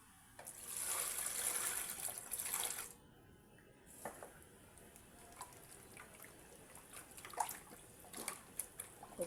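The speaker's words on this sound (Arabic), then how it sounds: "ودابا غادي ندير شويه ديال الماء" Water poured into ground spices or food while preparing a Moroccan chicken and meat dish, a steady splashing pour for about two seconds, then quieter scattered kitchen clinks and drips.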